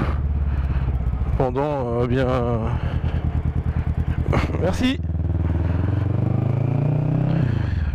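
A motorcycle engine drones steadily and loudly throughout a ride, with a rise in revs near the end, while the rider briefly speaks French over it.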